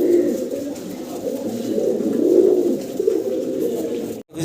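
Pigeons kept for sale, cooing in low, throaty, rolling calls close by, continuous for several seconds before a brief dropout near the end.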